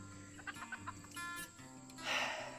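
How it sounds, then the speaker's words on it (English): Hen clucking in a backyard garden among cucumber and squash plants, a few short close clucks in a loose rhythm over a steady low hum, ending in a louder burst of rustling or flapping. "the chicken got in without me really like putting her in here"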